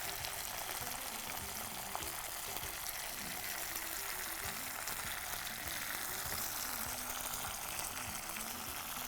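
Tomatoes squeezed into hot oil with curry leaves and a handful of mint, giving a loud, continuous close-up sizzle and crackle of frying that holds steady throughout with no talking.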